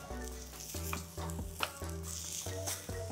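Vegetables char in a dry pan and are turned over, a soft crackling sizzle broken by repeated scraping and clinking of the pan, heard close and fairly quiet with no one talking.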